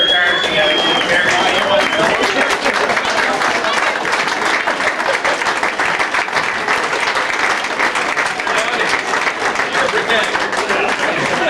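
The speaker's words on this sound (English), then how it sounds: "give all their crews a round of applause" A banquet crowd gives sustained, dense applause for the racing crews. The clapping is loud and close and continues unbroken throughout, with scattered voices mixed in.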